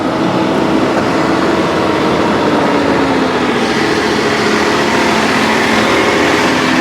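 A John Deere tractor driving out into a wet, muddy field on a small farm, its engine droning steadily and loudly up close with a broad rumbling hiss, no pauses.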